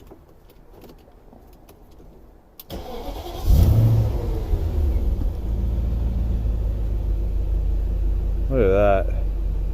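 A 2001 BMW X5 with the 4.4-litre V8 cranks and fires, settling into a loud, close idle with a brief rev rising near the end; someone speaks briefly at the start.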